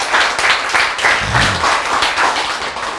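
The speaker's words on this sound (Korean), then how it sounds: "박수!" A crowd applauds with dense, continuous clapping that swells and holds steady, loud and close throughout.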